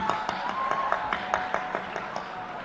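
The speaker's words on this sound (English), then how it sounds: "a huge round of applause to the people who actually got this to happen" Festival crowd clapping in a round of applause at a live event, a steady patter of distinct claps at a fairly even rhythm over a murmuring background.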